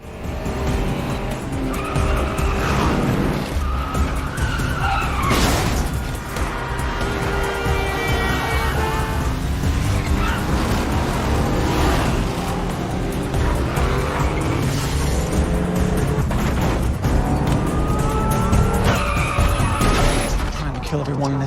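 Tires screech and skid repeatedly during a reckless film car chase, with engines revving and cars roaring past, loud and dense, under intermittent speech and dramatic score.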